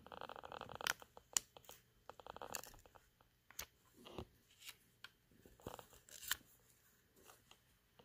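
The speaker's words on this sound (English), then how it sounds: "Watch how they peel up with the cold peel." Silicone rubber heat transfer being cold-peeled off a sweatshirt, heard as a string of short tearing and crackling bursts at close range, irregular and fairly faint, with pauses between the peels.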